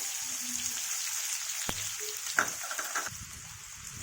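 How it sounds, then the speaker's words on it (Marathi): Onion sautéing in hot oil with cumin and mustard seeds, a quiet continuous crackling sizzle up close, with a single sharp tap and a couple of brief stirring scrapes partway through. "कांदा हे करून घ्यायचा आहे आपल्याला लालसर परतून घ्यायचा आहे"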